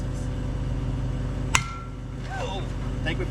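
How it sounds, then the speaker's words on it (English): A single sharp hammer strike rings out during windmill and well repair in Harrah, Oklahoma, a lone metallic impact over steady low engine-like hum, with faint chirping tones afterward. "Do you have that little hammer out? The big hammer?"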